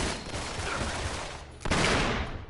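Rapid gunfire bursts crackle in the video game Uncharted 3, a dense fusillade of shots that dips briefly before a louder volley resumes, with no voices over it.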